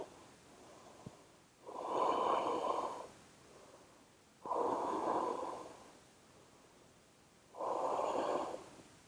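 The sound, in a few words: deep yoga breathing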